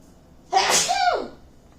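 One sudden, forceful sneeze, close and loud, with a sharp breathy burst that trails off quickly into quiet.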